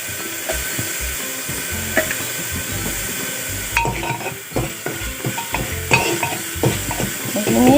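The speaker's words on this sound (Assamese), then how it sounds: "এইখিনি অকণমান সময় ৰঙচুৱা হোৱাকৈ ভাজিব লাগিব" Fish pieces fry in hot oil in a pan for a curd-based fish dish, with a constant sizzle and repeated clattering scrapes from a spatula against the pan.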